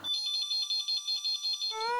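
A phone ringtone plays a quick, bright repeating electronic pattern of beeps, then shifts to a different melodic tone at the end.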